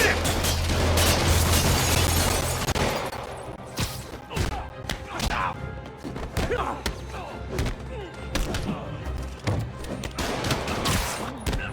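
Criminals in a Spider-Man video game open fire, producing dense rapid gunshots and thuds that fade into scattered bangs and impacts amid game combat noise, with voices heard briefly.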